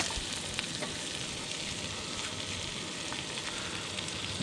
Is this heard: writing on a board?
no